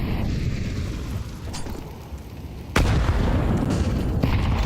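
A grenade blasts in a Counter-Strike match during an ESL Challenger League esports broadcast: a single sharp, loud boom cuts through steady game noise and rumble, then the din carries on at a higher level.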